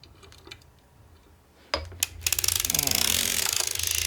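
A circular sock machine knitting a round of sock toe, starting with a few scattered clicks before settling into a fast, loud, steady clatter of rapid mechanical ticks.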